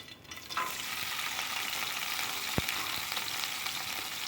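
Pirandai (adamant creeper) sautéing in hot sesame oil for a thuvaiyal, a continuous close sizzle with occasional spatula scrapes and one sharp tap, no voices.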